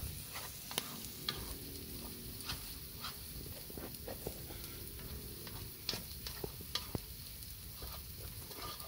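Food sizzles on a very hot outdoor grill in the Guatemalan countryside while it is stirred and turned, giving a steady close crackle broken by scattered scraping and clicking taps, with no talking.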